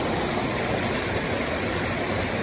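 Shallow, low stream water spilling over two outside edges of a streambed downstream, a steady broadband rush close by with no pauses and no voices.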